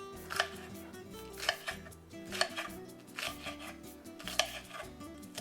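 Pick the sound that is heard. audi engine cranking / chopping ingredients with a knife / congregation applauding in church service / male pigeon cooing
chopping ingredients with a knife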